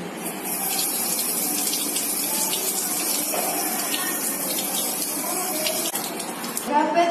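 Water from a tap rinses a stained microscope slide during an acid-fast staining procedure, a steady close gushing stream that continues throughout with slight variations.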